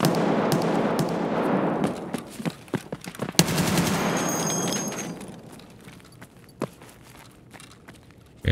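Scattered gunshots crack out in a shooter video game, some close and sharp, others distant pops, over a rumbling backdrop that fades to quieter spaced reports.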